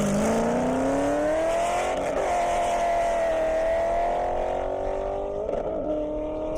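A 2023 Corvette and an 07 Corvette drag race down a half-mile airport strip, loud engines howling as they climb steadily through the gears under high revs, with brief shifts and a fading tail.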